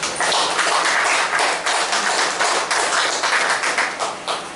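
Audience applause at a book-and-coffee gathering, greeting a newly introduced pedagogical advisor: dense, steady clapping close by that holds for several seconds and thins slightly toward the end.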